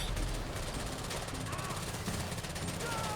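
Gunfire from a newly added gun, fired from inside a vehicle in GTA Online, comes as dense, continuous rapid shots blended with a steady engine-like roar and game noise.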